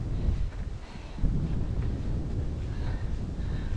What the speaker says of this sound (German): es ist jetzt ganz schön frisch hier im Wind